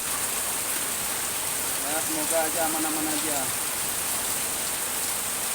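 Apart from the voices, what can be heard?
heavy rain with strong wind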